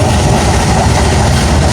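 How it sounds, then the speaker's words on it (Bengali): A train crossing the Padma near Mawa railway station thunders past close by, a loud, continuous heavy rumble and roar of wheels on the rails with no talk over it. "এই পদ্মা ক্রস করে মেবি ঢাকার দিকে যাচ্ছে ট্রেনটি"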